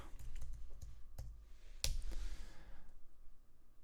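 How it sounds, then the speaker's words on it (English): Password being typed on a computer keyboard to sign a transaction in a browser extension: a short run of light, close key clicks with one sharper tap partway through, alone and with no talking. "open that up, type in the password"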